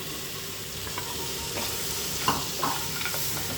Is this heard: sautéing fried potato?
yes